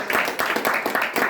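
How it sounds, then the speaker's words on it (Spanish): Congregation clapping in a church service, a short burst of steady, rhythmic claps from many hands at moderate loudness, no voices over it. "Denle un aplauso al Señor"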